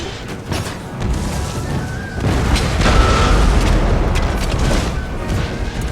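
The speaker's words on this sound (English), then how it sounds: "Oh, look at the artillery." Artillery fire in the video game Empire Total War in an Ottomans versus Plains Indians battle: dull booms roll over a steady rumble of battle noise, fairly loud, with no speech.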